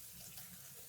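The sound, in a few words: water being poured into cooking pot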